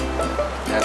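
Sea waves at Santolo beach in South Garut, a steady close wash of surf and churning water, loud and continuous through the brief moment, with no voices.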